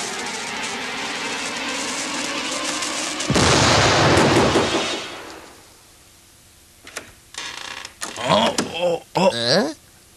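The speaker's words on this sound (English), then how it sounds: "It blew up." A cartoon bomb goes off in a sudden loud blast that roars for about two seconds and then fades away. Voices talk after it.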